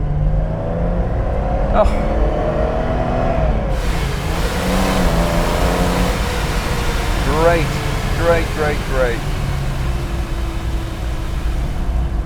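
A Ford Capri Mk I 3000 GT XLR engine pulls hard under acceleration, a steady loud drone inside the cabin with rising gear whines and a few rapid revving sweeps late on, while someone speaks briefly over it.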